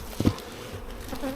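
Honey bees buzz close by at an opened hive during an inspection, a brief low droning hum with a short louder burst near the start.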